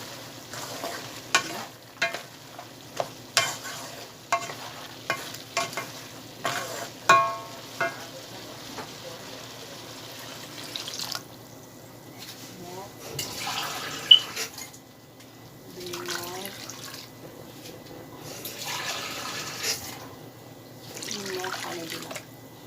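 Broth poured into a pot of chicken and chickpea dal as it cooks, with spoon clatter and stirring at first, then a steady sloshing, sizzling simmer close by.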